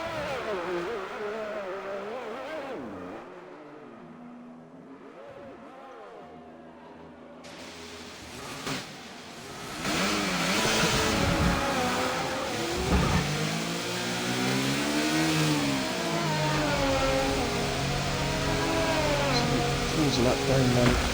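Race car engine at Imola in a racing game, a quieter engine whine at first, then a loud sustained rev with repeated pitch sweeps through gear changes, under commentary talk.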